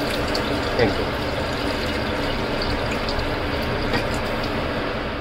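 Hot water pours steadily into a cooking pot of biryani being made in a home kitchen, a continuous broad gushing hiss at an even level with one or two faint clinks.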